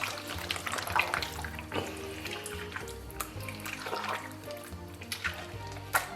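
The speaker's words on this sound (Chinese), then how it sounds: "咱们给它抓洗20分钟啊，然后拿清水给它冲洗一下。" Pork intestines being rinsed with clean water in a basin, a steady tap stream splashing and sloshing with scattered drips and hand movements, close up and continuous, no talking.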